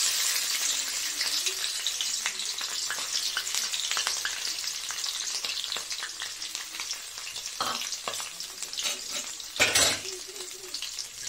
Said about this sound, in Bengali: নারকেলটাকে ভেজে নেব।